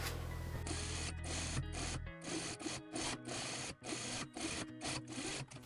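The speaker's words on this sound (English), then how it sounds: "overlock this seam of the back piece" An overlocker sews a seam on knit fabric, a steady close mechanical whir broken by short pauses and restarts, with no talking.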